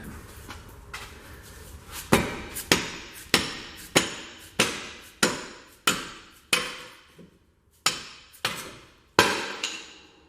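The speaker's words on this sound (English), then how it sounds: "Hammer! I need a big hammer." Heavy hammer blows ring out on metal brake parts of a 1993 Lincoln Mark VIII, about fourteen sharp strikes in a fairly steady rhythm, close and loud, with brief pauses between some hits.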